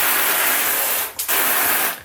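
A Reege handheld bidet sprays a strong, steady jet of water, a loud broadband hiss that cuts out for a moment near the middle before surging back and running on.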